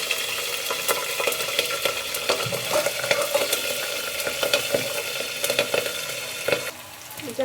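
Chopped green chillies fry in hot oil in a pan, a continuous loud sizzle broken by frequent scraping and stirring knocks from a utensil, with no talking.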